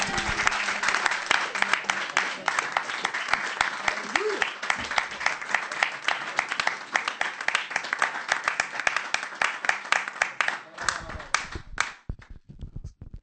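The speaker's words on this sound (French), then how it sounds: "On acclame la parole de Dieu." A church congregation bursts into sustained applause acclaiming the word of God, dense, fast clapping from many hands filling the room for about eleven seconds before thinning to a few scattered claps and fading out.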